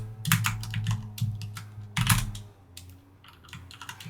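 Computer keyboard typing, a few quick bursts of close, crisp key clicks with short pauses between them.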